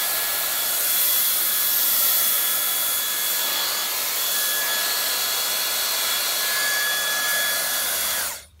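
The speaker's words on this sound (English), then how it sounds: "And this bomb blow dryer too makes a big difference." A hair dryer blows steadily on hand-tied hair extensions as they are styled, a loud continuous whooshing hum with a faint whine that holds for about eight seconds before cutting off abruptly.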